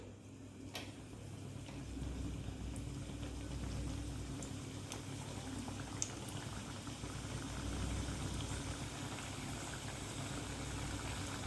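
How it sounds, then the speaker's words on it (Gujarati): Maida puris dropped one at a time into hot oil for deep-frying, a steady bubbling sizzle that runs close and even throughout, with a few faint ticks on top and no talk. "હવે તળી લઈશું અને અહીંયા તેલ પણ ગરમ થઈ ગયું છે અને હવે એક એક પૂરી આપણે ઉમેરી દઈશું"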